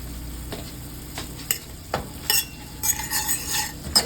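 A honey and cinnamon glaze stirred in a pan, soft scraping strokes with faint clinks of a utensil over a quiet sizzle, close and fairly gentle.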